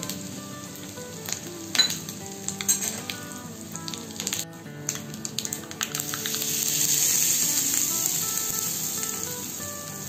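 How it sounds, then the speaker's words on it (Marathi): Cumin, mustard seeds, curry leaves and asafoetida dropped into hot oil for tempering, close crackling and spitting bursts that swell into a loud steady sizzle. "फोडणीसाठी तेल तापलंय। आता आपण याच्यात जिरे मोहरी घालू, कढीपत्ता घालू आणि हिंग"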